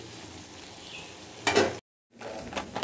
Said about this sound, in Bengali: এবারে আলুটা নুন আর হলুদ দিয়ে একটু ভাজা ভাজা করে নিচ্ছি